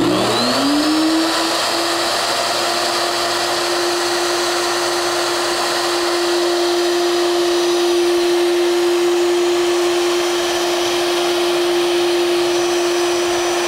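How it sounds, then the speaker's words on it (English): A power tool, likely a router, spins up and then cuts grooves in wood for bookcase panels, a loud steady whine held continuously from start to finish with no talk. "it's time to make the grooves to receive the panels"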